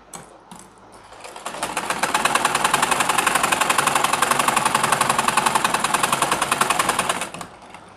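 Sewing machine stitching a trouser pocket, a rapid even mechanical chatter that spins up after a quiet start, runs loud and steady for about five seconds, then stops.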